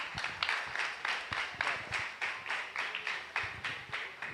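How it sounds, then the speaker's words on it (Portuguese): A church congregation at an evangelical service claps in a steady, rhythmic beat, many hands striking together in quick even pulses at moderate volume. "Aplauda o mestre."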